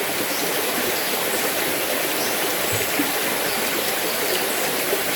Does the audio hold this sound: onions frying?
no